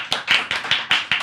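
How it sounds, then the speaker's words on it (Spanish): A studio audience on a Chilean talk show claps for President Gabriel Boric, a short burst of close rhythmic hand claps. "Un aplauso para él desde el estudio"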